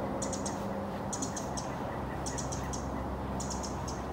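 Small birds chirp in a cedar grove along a forest path. Brief clusters of high, quick tweets repeat at regular intervals over a steady ambient hiss.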